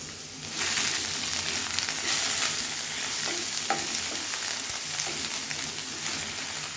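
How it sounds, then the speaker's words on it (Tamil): Grated watermelon rind frying in ghee, being stirred in the pan with a steady sizzle and scraping, close and continuous with no talk. "நம்ம முந்திரி வறுத்த அதே நெய்யில் நம்ம துருவி வச்சுருந்த வாட்டர்மெலன் தோலை ஆட் பண்ணியிருக்கேன்"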